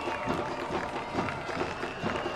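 Crowd at a Saturday night football match cheering and clapping for Charlie Dennis, a dense, steady roar with scattered applause, moderately distant.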